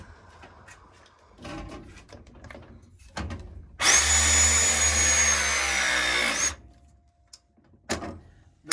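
Press tool crimping a half-inch pipe joint during a water heater install, a loud motorised whine held for nearly three seconds, set between quiet handling clicks and knocks.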